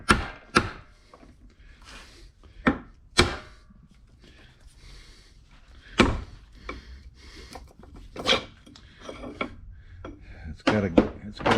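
A Muncie 4-speed transmission part is tapped loose after its bolts are removed, giving sharp, irregularly spaced metallic knocks with quiet gaps, several clustered near the end, and faint scraping in between.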